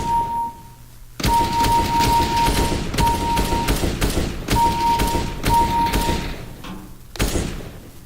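Gunfire in CS:GO training comes in repeated loud, close bursts separated by brief pauses, with a steady tone sounding beneath the shots.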